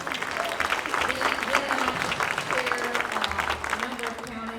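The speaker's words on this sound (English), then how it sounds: "Y'all should clap for that." A public meeting audience gives a round of steady applause, a dense crackle of many hands clapping throughout, with a voice speaking faintly underneath.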